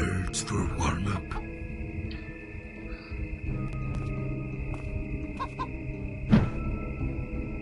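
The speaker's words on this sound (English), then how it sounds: "Try kicking those birds for warm-up." Birds clucking in the video game Zeno Clash, with scattered clucks and squawks over a steady game ambience and a sharper burst near the end.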